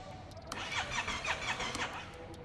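A Yamaha Tenere 700 World Raid with a 270-degree crossplane parallel twin is started; the starter cranks in a quick rhythmic series of whirring, squealing pulses at close range without the engine settling into a clear idle.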